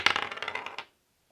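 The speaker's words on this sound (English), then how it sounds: "But now let's go ahead and roll the dice." A die is rolled and tumbles across a hard surface in a quick burst of rattling clicks lasting under a second, then stops into silence.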